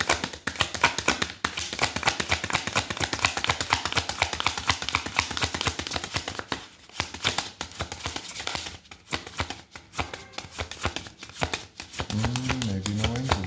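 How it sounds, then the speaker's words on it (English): A deck of cards is shuffled over and over up close, giving a long run of rapid, crisp riffling and flicking with a few short pauses. A brief voice comes in near the end. "Okay, shuffle them one more time."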